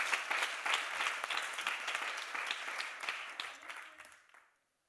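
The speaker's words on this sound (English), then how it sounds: "round of applause." An audience gives a warm round of applause at the end of a conference talk, dense clapping from many hands that stays strong, then tapers and stops abruptly near the close.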